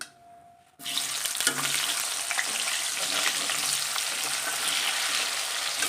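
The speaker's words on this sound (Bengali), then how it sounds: "দেখো এবার পেঁয়াজটা দিয়ে দিচ্ছি এখানে" After a brief near-silent pause, onions hit hot oil with dried chillies and bay leaves for a home-style mutton curry, bursting into a loud, dense, continuous sizzle close by.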